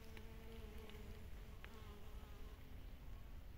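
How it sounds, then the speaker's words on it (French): Bees and bumblebees buzzing around flowers in an ornamental garden, a faint continuous drone with shifting pitch, heard alone against soft background noise. "les abeilles et les bourdons s'en donnent à cœur joie et se régalent de leur nectar"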